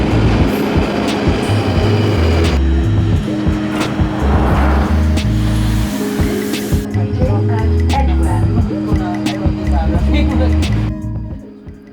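A crowded London Underground Northern Line tube train runs between Kennington and Elephant and Castle, with a loud, steady rumble, low droning tones and rattling that fade near the end, and voices faintly present inside the carriage.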